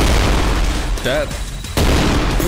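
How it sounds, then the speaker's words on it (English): Bombing explosions in the video game Trepang2 fill the mix with a constant loud, low rumble of blasts. A brief voice cuts in partway through, then a sharp new boom lands and the heavy rumble carries on. "they're bombing the place"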